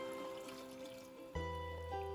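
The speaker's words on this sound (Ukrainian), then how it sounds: "Тепер заливаю бульйоном," Broth poured into a pot over frying rice and tomato for a summer vegetable soup, a steady liquid stream that starts abruptly partway through and continues to the end, fairly close, with no talking.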